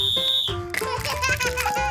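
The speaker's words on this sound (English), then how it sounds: "Whistle again." Shrill toy whistle blown in sharp tonal bursts to crack open a giant surprise egg, with bright jingly tones following.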